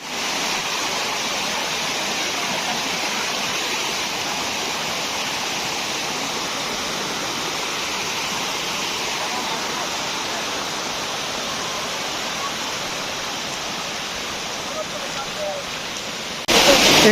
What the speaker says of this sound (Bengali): এই হচ্ছে কুপিকাটা ঝর্ণা।